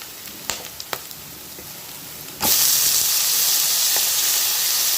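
A loud, steady sizzle bursts in halfway through as tomatoes are added to a frying pan and keeps hissing, preceded by a few faint clicks and taps of cooking.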